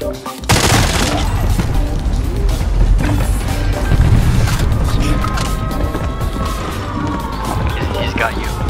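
Loud gunfire from a Call of Duty match on Rebirth Island, with rapid, sustained bursts and impacts filling the whole stretch while players talk over the shooting.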